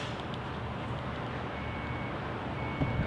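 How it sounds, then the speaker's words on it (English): A flooded Dodge Grand Caravan wheelchair-accessible van gives off a faint, steady electronic beeping beneath a constant low background hum, the beeps thin and distant throughout. "I hear beeping, and that's always good"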